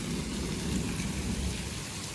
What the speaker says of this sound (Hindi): कितने जोर से गरज रहा है, कितनी जोर से बादल बोल रहे हैं। और बारिश देखिए ना, बारिश तो हद कर रही है।